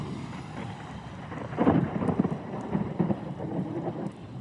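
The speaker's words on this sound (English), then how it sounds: "In the middle of a lightning storm" A southeast US thunderstorm during tornado warnings, with a deep rolling thunder swell in the middle over steady rain and wind buffeting on the microphone.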